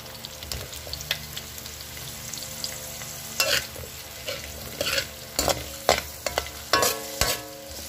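Onions and squash fry in a pan for a Filipino tilapia and vegetable dish, a continuous sizzle broken by repeated louder stirring scrapes, close and without talk.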